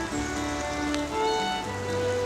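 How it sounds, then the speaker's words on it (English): Steady spring rain falling outdoors on a walk, a continuous soft patter with no voices over it. "And now it's really raining"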